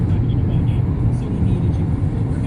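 A car drives along a snowy winter road on the outskirts of Corning, with a steady low engine and tyre rumble that stays close and even throughout, and no voices.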